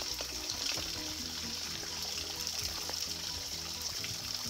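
Water pours steadily to dilute a drink during a hike on a woodland trail, a continuous close splashing trickle that runs without a break and without any voices.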